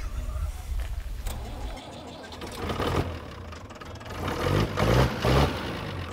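A tractor engine cranking and firing up, a rough low mechanical rumble that builds and swells toward the end, with people talking over it.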